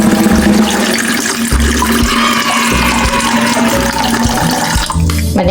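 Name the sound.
water poured into a cooking pot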